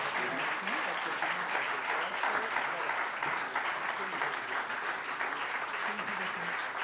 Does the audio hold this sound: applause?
yes